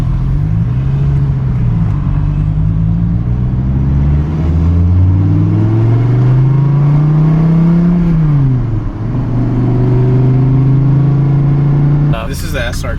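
A 2014 Dodge Viper SRT base model with its engine revving up and down repeatedly, a loud, close, deep rumble rising and falling in pitch, with a short burst of other noise at the end.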